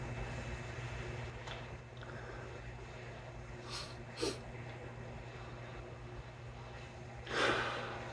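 Quiet sniffs at a glass of Scrappy, a West Coast IPA from Trellis Brewing: a few short, breathy inhalations spaced apart over a low background hum.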